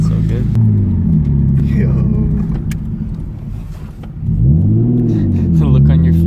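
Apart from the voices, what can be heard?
Nissan Skyline R33 engine revving with new turbo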